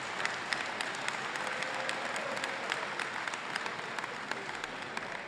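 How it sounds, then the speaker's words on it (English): Sustained audience applause at a jersey retirement ceremony honoring teammates, a dense steady patter of many hands at moderate distance lasting several seconds with no talk over it. "let's give a round of applause for them"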